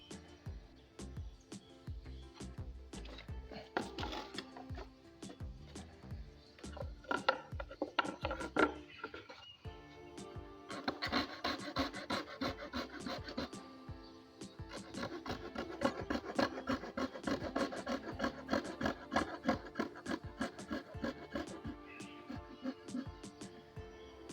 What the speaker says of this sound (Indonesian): Sekarang kita akan potong menggunakan gergaji variasi.